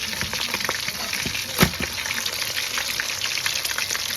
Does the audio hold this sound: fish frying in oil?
yes